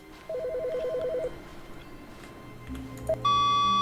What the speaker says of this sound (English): A phone?